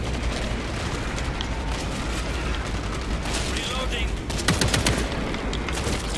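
Gunfire in the zombie shooter World War Z, with dense continuous bursts of automatic fire and booms filling the mix, peaking in a sharper volley near the end while a player talks over it.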